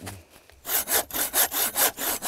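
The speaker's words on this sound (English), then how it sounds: "A sharp handsaw and an even sharper imagination lead Lundy to this." A sharp handsaw cuts through wood for carving in six even, loud strokes after a brief quiet start, each rasping stroke close and distinct.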